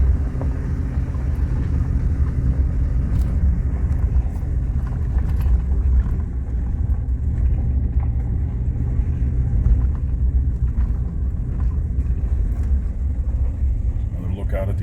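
A vehicle rolls along a bumpy dirt road of exposed rock and gravel near Raystown, a loud continuous low rumble and cabin drone with faint rattles, while a voice talks over it.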